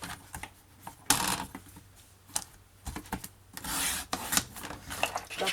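Cardboard being cut by hand for a two-section box, with uneven scraping and rasping strokes and short sharp slices, close and fairly quiet.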